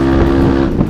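A bored-up Kawasaki KLX 240 cc supermoto engine revs close and loud, a dense continuous roar with a steady low hum held through the brief moment.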